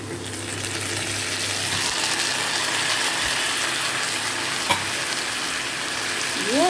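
Taro leaves frying with chana dal and chillies in a pan, a continuous close sizzle with low scraping from stirring and one sharp clink of the utensil.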